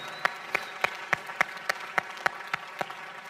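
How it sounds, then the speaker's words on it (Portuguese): A church congregation at a youth service applauds after a prayer, with rhythmic, evenly spaced claps roughly three per second standing out over a softer wash of clapping, moderately loud and without talk. "Vamos aplaudir"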